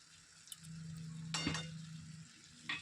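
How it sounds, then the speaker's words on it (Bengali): Spice mix of turmeric, cumin, coriander and red chili powder frying in oil, a steady low sizzle with a brief burst of stirring and a light clink of a utensil against the pan. "এবার মশলাটাকে আমি কিছু সময় কষিয়ে নেব।"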